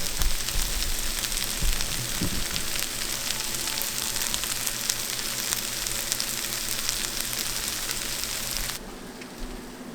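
Mushrooms cooking down with wine in a hot pan, giving a loud, steady sizzle and crackle that runs without a break and thins out just before the end.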